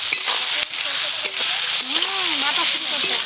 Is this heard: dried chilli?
yes